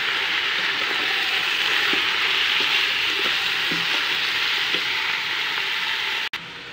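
Kabsa meat being stirred as it fries in a pot, giving a steady, loud, close sizzle throughout with soft scraping stir strokes and no voices.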